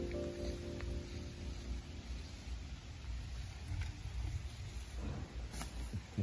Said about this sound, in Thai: ท่ามกลางสายฝนเลยนะครับยืนตากฝนดูครับ